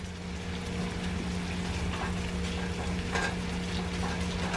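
Sausages grilling in a pan alongside shrimp and yellow rice, giving a steady close sizzle and crackle under a constant low hum, with faint stirring scrapes and no voices.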